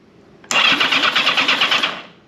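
A Yamaha XJ750 Maxim motorcycle engine cranks briefly and then catches, settling into a loud, steady running rumble close by with no one speaking.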